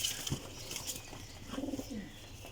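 Pigeons at a breeder's loft give soft, low cooing, one faint rolling coo near the end with a few light sounds before it, fairly quiet and without talk.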